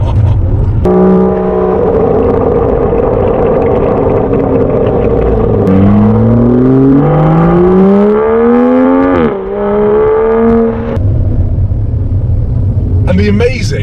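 An Aston Martin DB11 engine rumbles loudly, its note climbing through a long rising rev and falling back to a deep, steady burble, close and continuous throughout.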